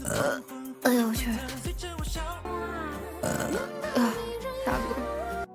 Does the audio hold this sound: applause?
no